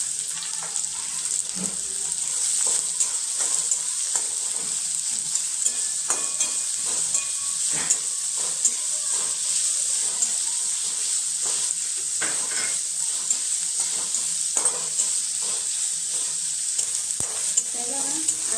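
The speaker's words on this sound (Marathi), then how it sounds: "आता आपण हा बारीक चिरून घेतलेला कांदा तो पण छान परतून घेऊया" Finely chopped onion and green chillies sauté in a pan for upma, a steady bright sizzle of frying with repeated scraping and stirring clicks of a spoon throughout, close and loud, with no talking.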